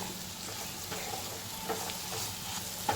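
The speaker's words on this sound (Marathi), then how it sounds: "सोयाबीन आहे ते आपण ह्याच्यामध्ये टाकून घ्यायचे आणि बारीक गॅसवरतीच त्यांना परतवायचं आहे" Soybeans stir-fried in a pan over low heat give a faint, steady hiss, with a few soft scraping strokes of the spatula through the quiet sizzle.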